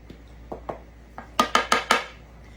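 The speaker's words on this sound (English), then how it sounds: "I'm gonna take some salt and I'm gonna salt over my flour and just stir it up" Spoon or whisk knocking against a bowl while salt is stirred into flour, a series of seven or eight crisp clinks that speed up and grow louder toward the end, close and alone.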